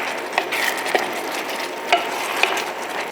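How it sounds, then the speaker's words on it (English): Cornstarch slurry goes into sizzling stir-fry noodles in a Thai home kitchen: a steady sizzle and fry hiss, with scraping stirs and a few clicks of utensils against the pan. "Add the cornstarch slurry."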